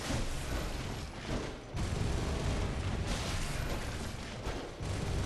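Sustained, dense enemy gunfire and booming blasts in the gothic action game Bloodborne, loud and continuous with brief dips, no voices.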